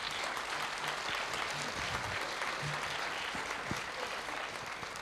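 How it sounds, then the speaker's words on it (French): An audience applauds the jury members at a literary prize event in Vichy; steady, even clapping from a seated crowd across the whole stretch, moderately distant and fairly soft, with no talk over it. "vous pouvez les applaudir d'ailleurs"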